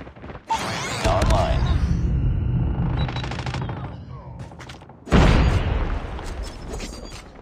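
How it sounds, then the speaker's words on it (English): A grenade blast in an online shooter match cuts through a steady clatter of gunfire with a heavy boom, followed by more rolling explosions and shooting as game voices call out. "Watch out, grenade!"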